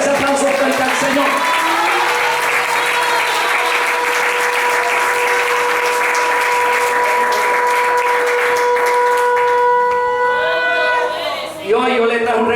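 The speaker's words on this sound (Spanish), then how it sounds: "Dale ese aplauso fuerte al Señor." Church congregation clapping loudly and steadily during a special service, sustained applause over music with voices, fading briefly near the end.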